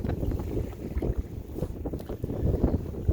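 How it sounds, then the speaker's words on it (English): Stiff wind blows across Oneida Lake, heavy low buffeting and rumble against the microphone, gusting unevenly throughout with no talk. "Wind's blowing pretty stiff."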